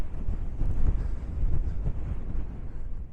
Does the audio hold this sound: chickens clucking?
no